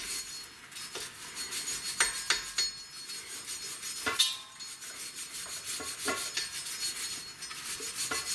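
Sandpaper rubs and rasps against the brake dust shield of a Toyota Avalon's front brakes, with irregular scraping strokes and a few sharper knocks, close up, without talk.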